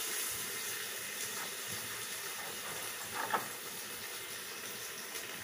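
Bacon pieces fry in a pan alongside browned, slightly charred onion, giving a steady broadband sizzle that holds at an even level throughout, with a brief sharper crackle near the middle.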